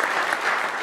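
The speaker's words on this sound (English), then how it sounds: "round of applause to you, dude" A brief burst of steady applause from an audience, dense and even throughout.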